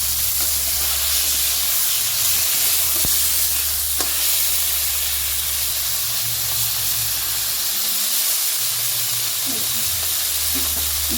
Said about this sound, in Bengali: এটা নিচটা একটু ভাজা হোক, তারপরে মৌরলা মাছ নাড়িয়ে দেবো।